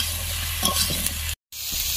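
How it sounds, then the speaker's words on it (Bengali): Eggplant pieces frying lightly in a pan: a close, steady sizzle with a few soft stirring touches, briefly cut to silence partway through before the frying resumes. "বেগুনগুলো খুব হালকা ভাজবো, বেশিক্ষণ ভাজবো না।"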